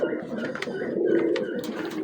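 A breeder pigeon coos softly nearby, a low throaty rolling call, while someone talks over it.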